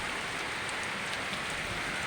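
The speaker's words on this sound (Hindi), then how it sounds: "झमाझम बारिश हो रही है" Heavy monsoon rain pouring down outdoors in lush greenery at a naturopathy centre in Lucknow, India, a dense, constant hiss of drops with no pauses and no voices.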